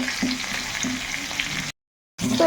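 Whole garam masala, cardamom, cloves and cinnamon, along with a torn bay leaf, fry in hot oil with a steady close sizzle and a few stirring clinks, cut by a brief gap of silence.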